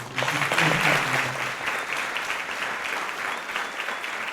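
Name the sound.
applause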